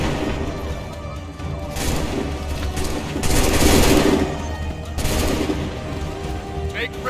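Repeated volleys of massed gunfire in a battle video game, with loud crackling bursts and dense rattling between them and a brief voice in the background.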